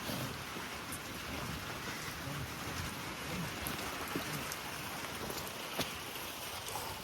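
Rain falls steadily during a thunderstorm over a lake where people are fishing for carp from a boat, a soft, even patter with a few sharper drop ticks, faint and continuous with no talking.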